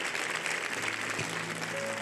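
A crowd claps steadily, a dense wash of applause that keeps an even level throughout.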